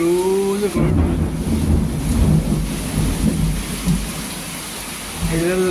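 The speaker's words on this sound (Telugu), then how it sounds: "ఏలూరులో ఈరోజు ఒక్కరోజే మార్నింగ్ భారీ వర్షం." Heavy morning rain in Eluru pours steadily in a dense hiss, with a low rumble underneath and brief tonal sounds at the start and end.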